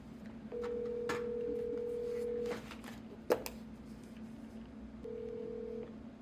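A telephone dial tone and call-connection tones in two long steady stretches separated by a pause with a sharp click, quiet and close, with no talking.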